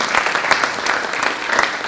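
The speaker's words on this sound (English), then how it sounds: "a round of applause for helping us sponsor" Applause at an economic development industry breakfast, a short burst of loud, dense clapping from a seated crowd, close and continuous with no voices.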